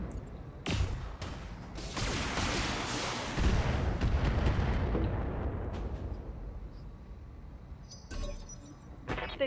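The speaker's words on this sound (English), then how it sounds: "Hopefully, I don't just shoot the Jenner in the back." Mech weapons firing in the Battletech video game, a sharp opening blast followed by a long, loud rumbling barrage of explosions that slowly fades, then a few crackling impacts near the end.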